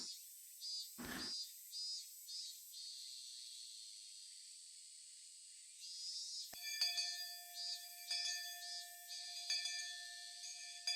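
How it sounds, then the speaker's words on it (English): A school bell in the visual novel Higurashi When They Cry rings out partway through as sustained, ringing chime tones, heard over a steady drone of cicadas or crickets. "The bell rung, sounding the end of the monotonous school day"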